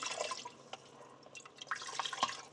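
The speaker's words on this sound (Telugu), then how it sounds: "సో ఇది అలా అడ్డం పెట్టేసి పోస్తాను, లేకుండా అంటే మొత్తం వాటర్ మధ్యలోనే పడుతుంది కదా." Water poured into a pot of rice while cooking, splashing and dripping in short irregular bursts, quiet and close with no talk.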